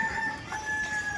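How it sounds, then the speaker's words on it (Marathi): A rooster crows at a Mumbai street scene, its steady tonal call held through the short moment over a bed of crowd and traffic noise, moderately near and fairly quiet. "कोंबडा ओरडला"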